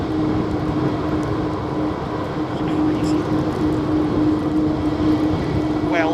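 An airliner rolls down the runway at Helsinki Vantaa Airport, a steady loud engine roar with a sustained whine, continuous for several seconds from a moderate distance.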